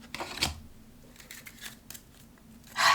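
A deck of Isis Oracle instructional cards is shuffled by hand, giving a few quiet, brief riffling and slapping bursts with soft rustles between them and a louder flurry at the end.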